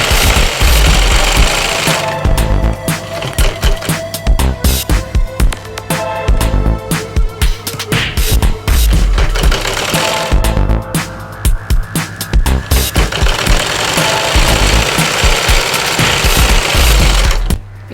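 A sewing machine stitches a kaftan dress, making a loud, steady rapid mechanical chatter that runs in long stretches with a few brief pauses and changes of pace.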